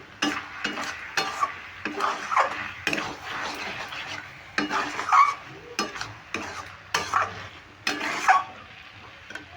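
Spinach chorchori fries in a kadai with a low sizzle while a spatula stirs and scrapes against the metal in repeated uneven strokes, close and fairly quiet, with no talk.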